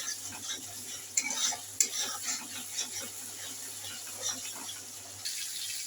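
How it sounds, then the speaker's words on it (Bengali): Soya chunk and potato biryani masala being stirred and sautéed in a pan: a steady, soft sizzle with scraping spatula strokes and occasional utensil clinks, close but fairly quiet. "ভালো করে আরও কষিয়ে নেব।"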